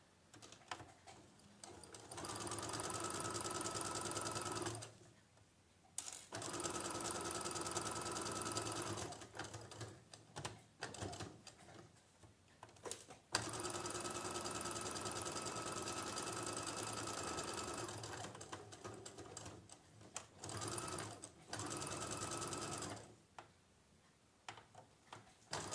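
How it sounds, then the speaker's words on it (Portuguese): A sewing machine stitches fabric in bursts of rapid, steady mechanical chatter, stopping briefly several times between runs, close and clear with no talking. "Às vezes a minha máquina dá uma engripadinha aqui e ela não puxa."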